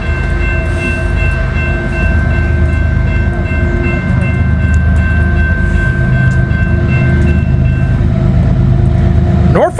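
A Norfolk Southern freight train rolls past in the snow, a loud continuous rumble of rail cars with steady wheel noise and a sustained horn-like tone, heard close by without talking.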